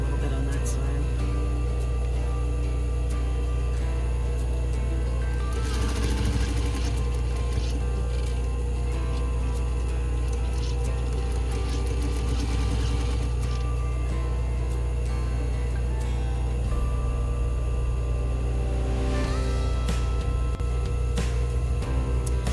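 A sewing machine runs steadily while it stitches the hem of a fabric pillow cover, giving a continuous mechanical whir with faint rhythmic clicking and a few brief louder rattles.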